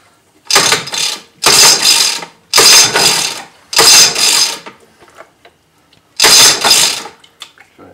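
A small engine is kick-started five times, each loud mechanical ratcheting kick lasting about half a second with short gaps between, but it never catches.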